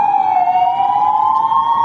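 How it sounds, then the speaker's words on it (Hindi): An ambulance siren sounds during a fire-safety drill at a building, a loud, continuous wailing tone sliding slowly down and back up, close by with no talking. "जैसा कि आप लोग देख रहे हैं एम्बुलेंस आ चुकी है"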